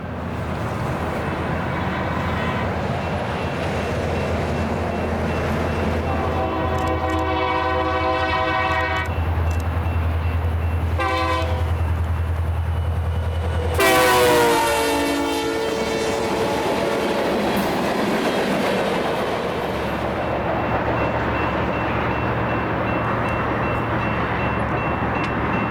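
A freight train rolls past on the Greeley Sub near Gilcrest, Colorado, its air horn sounding in long blasts over a continuous loud rumble and clatter of wheels, close by, with no talk.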